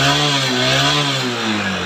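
Honda Shine motorcycle engine idling after a half-engine rebuild, a loud close steady putter with faint wavering in pitch over a short span, no voices.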